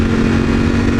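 A V4 motorcycle engine at full throttle in a low gear, a loud, steady, close-up rev that holds a sustained throaty drone for the whole moment, with no voices over it.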